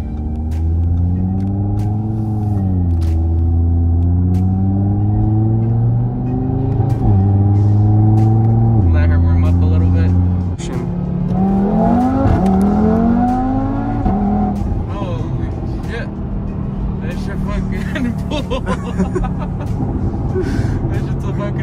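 Audi TT RS engine starting and revving while driving, a loud, deep rumble with repeated rising and falling pulls of acceleration and gear changes throughout, close inside the car.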